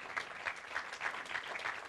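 Audience at an awards ceremony applauding an honoree, Mr. Ludvík Singert; sustained crowd clapping with a faintly rhythmic, pulsing quality, heard from a distance without speech.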